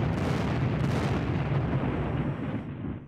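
Artillery bombardment in the World War II strategy game Sealion '40, a dense rumbling barrage of booms heard alone that fades away near the end.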